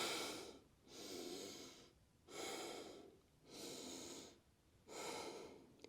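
Slow deep breathing during a yoga workout class, five long inhale-exhale cycles with a steady rhythm, close and clear, with no talking.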